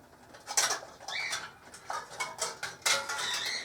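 Metal lid bands are screwed down onto hot canning jars of corned beef hash, giving a series of short scraping, clinking metal-on-glass twists in quick succession, close and moderately loud with no speech.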